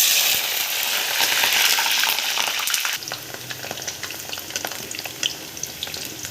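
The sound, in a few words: cabbage and potatoes frying in oil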